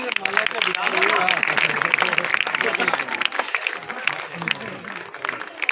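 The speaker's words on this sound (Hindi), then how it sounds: "एक बार जोरदार ताली।" Loud applause from a crowd of villagers and women at an office inauguration in Bundi, Rajasthan, dense steady clapping throughout with voices calling out over it.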